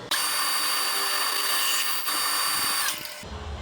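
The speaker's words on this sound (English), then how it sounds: "it would have been easier to drill these holes before I bent this all up" Power drill boring holes through the metal rear wheel tubs of a 1970 Chevrolet Nova, one steady loud high-pitched whine lasting a few seconds and then spinning down, close and without talk.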